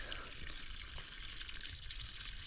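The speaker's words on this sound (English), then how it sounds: "think that's all the water that's actually flowing in Shenandoah National Park" A spring-fed pipe pours water in Shenandoah National Park with a steady, unbroken hiss and gurgle, close and even throughout, with no voices.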